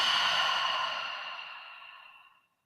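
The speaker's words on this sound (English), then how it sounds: "Exhale through the mouth." A long, steady breath pushed out through the mouth during an energizing morning yoga session, close and airy, slowly tapering away to silence over a couple of seconds.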